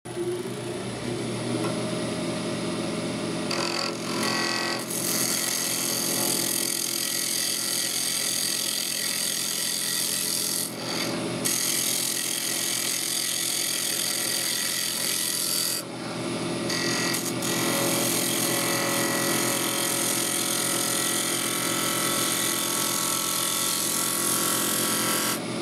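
A drawknife makes a finishing cut on wood, producing a steady, close scraping and shaving sound that runs continuously with brief breaks, heard alone without talk.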